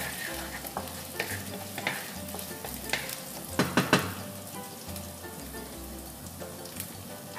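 Onions sizzle and crackle as they fry in a pan for a creamy shrimp pasta, with a steady frying hiss, occasional stirring scrapes and a cluster of louder crackles midway, close and alone without talk.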